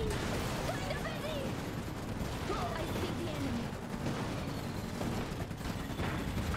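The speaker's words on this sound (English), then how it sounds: "They're shooting!" Rapid gunfire and mechanical clatter from battle in the real-time strategy video game Iron Harvest, loud and continuous with explosive bursts under a dense game soundtrack, with speech woven through.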